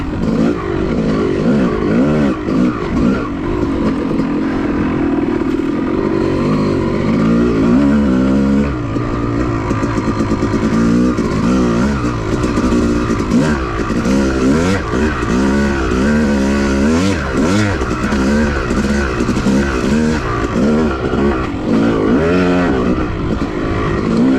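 Yamaha YZ250 two-stroke dirt bike ridden hard over a whoops trail at Manchester OHV, engine loud and close, revving up and down in quick cycles with wavering pitch as it hits each bump, continuous throughout.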